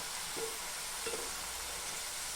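Wheat flour biscuits fry in hot oil in a deep pan, giving a steady soft sizzle with a couple of brief bubbling bursts, fairly faint and with no talking.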